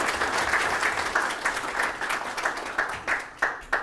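A crowd at an association general meeting and presidential inauguration ceremony applauds, a dense burst of clapping that thins into scattered individual claps as it fades.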